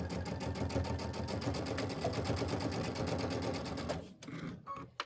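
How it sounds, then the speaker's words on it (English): A sewing machine back stitches a quilt block, running in one fast, steady burst for about four seconds, close and moderately loud, before stopping with a few faint clicks. "I'm going to give it a little back stitch."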